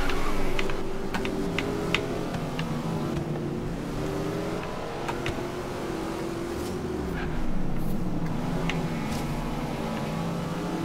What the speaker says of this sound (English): you guys can probably hear my controller